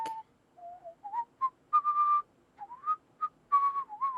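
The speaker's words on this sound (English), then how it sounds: "You can now hear a person whistling." A person whistles a wandering tune in a video game, a series of short and held clear notes with brief pauses, rising and falling in pitch.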